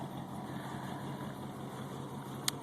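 A 1977 Lincoln Continental idles steadily at its first start after sitting, a low continuous engine rumble with a faint brief tick near the end and no voices.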